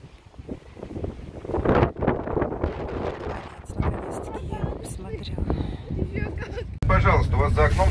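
Wind buffets the microphone with low, gusty rumbling while a person talks over it, growing steadier and louder toward the end.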